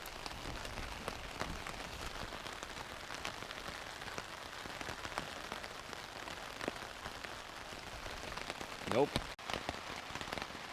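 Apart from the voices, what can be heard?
heavy rain falling on tent and tarp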